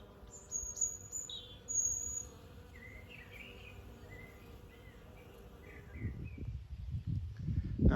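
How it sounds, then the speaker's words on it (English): Honeybees buzzing in a flowering garden, a faint, steady insect hum with light bird calls far off, followed by closer rustling near the end. "it's absolutely full of honeybees buzzing away"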